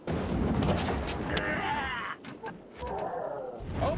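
Heavy artillery fire booms through a naval combat video game, deep repeated blasts rolling and overlapping for several seconds with brief lulls between volleys.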